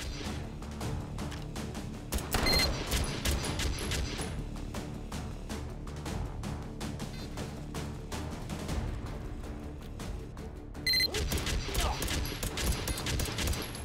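Sentry guns fire in Take & Hold mode of Hot Dogs, Horseshoes & Hand Grenades, a VR shooter: dense, continuous rattling shots and crashes run throughout with almost no pauses.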